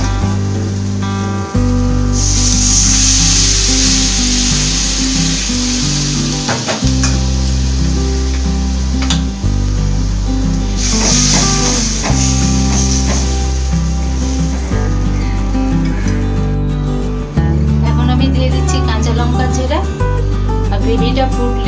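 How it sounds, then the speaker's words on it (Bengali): Hot water poured into a frying pan of Pabda fish gravy sizzles in two hissing bursts under steady loud background music, with a voice talking over it. "এখন আমি দিয়ে দিচ্ছি গরম জল,"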